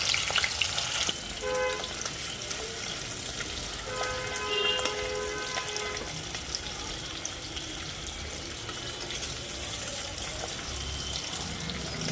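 Hilsa fish fry in hot oil, a close steady crackling sizzle running throughout, with a few clinks and faint tonal beeps near the start.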